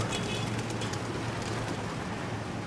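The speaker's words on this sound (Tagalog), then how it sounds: "lipara na yung mga kalapati namin" Pigeons returning to a loft coo softly beneath a steady hiss of rain that continues throughout.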